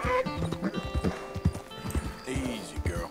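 Horse hooves clop in a steady rhythm in Red Dead Redemption 2, close and clear, with a possible brief whinny and someone talking over them.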